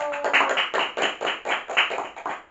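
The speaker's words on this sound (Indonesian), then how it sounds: "Tepuk tangan dulu buat Ilu." A small group in a primary school classroom claps steadily in a quick, even rhythm for a couple of seconds, fairly close by, with no talking.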